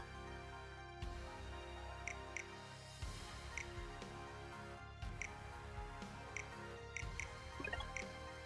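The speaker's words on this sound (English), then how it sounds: "I heard the sound of dripping like raindrops" Blood dripping in the Otome Daoshi video game, heard as a steady series of soft, close drips and plops, like raindrops, falling at irregular intervals over quiet background music.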